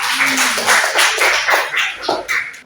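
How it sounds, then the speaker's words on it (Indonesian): Brief clapping for Mbak Bella during an individual mentoring session, a few seconds of fairly loud, close hand claps in uneven bursts. "terima kasih tepuk tangan buat Mbak Bella ya"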